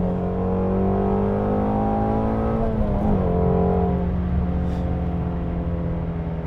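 A Ford Mustang Shelby GT350's flat-plane V8 holds a steady, loud, high-revving drone inside the cabin, its tone shifting briefly midway and then settling again, with no talking.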